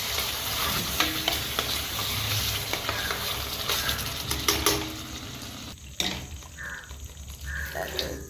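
Egg gravy masala cooks in a pan over low flame, giving a steady bubbling sizzle with spoon scrapes and stirring clinks that thin out toward the end.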